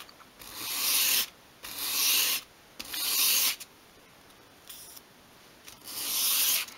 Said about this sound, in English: rather than sweeping it towards you like that, go along the sandpaper. Just sweep it away from you like that.